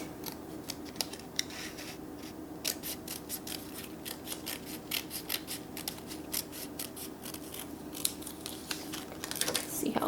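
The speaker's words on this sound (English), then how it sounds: "I'm going to cut one more strip," Scissors snipping a long strip of material for a miniature oven interior, heard as a run of quick, close crisp snips over a low steady background hum.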